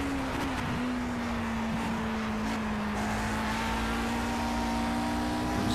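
A 1960s Formula One race car engine at Rouen-Les Essarts in Project CARS drones steadily at high revs, a constant loud whine that shifts pitch slightly as the car is driven hard, with no talk.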